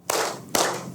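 A group of people clap their hands together twice in quick, sharp unison, in the rhythm of a children's clapping chant in a classroom.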